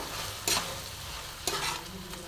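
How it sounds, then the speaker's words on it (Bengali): Onions and spices sautéed in a pan give off a steady sizzle, with two brisk scraping stirs of the spatula standing out close by. "পেঁয়াজ আর মশলা একদম সুন্দর করে কষে নেবো।"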